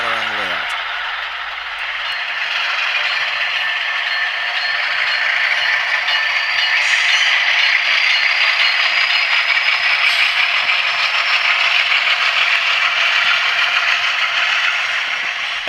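Continuous whining hum with a rising and falling pitch from a model locomotive's Tsunami2 sound decoder, imitating a supercharger and turbocharger, steady and fairly loud throughout.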